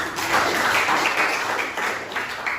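A group claps continuously in a steady wash of applause at moderate volume, with no voices standing out.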